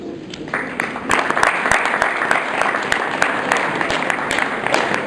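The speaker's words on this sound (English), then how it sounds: "Let's give another round of applause to Mr. Murray." Scouts and families at a Boy Scout Troop 318 Court of Honor break into applause, a dense, even wash of many hands clapping that swells after a quieter start and holds steady, close by.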